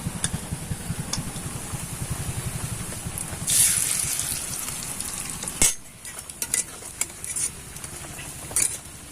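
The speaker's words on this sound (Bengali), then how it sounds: "এবার এই যে গরম তেলে ছেড়ে দেব" Pakora fritters dropped into hot oil sizzle and crackle steadily at close range, with a brief splash and clink of utensils partway through and the frying continuing loudly afterward.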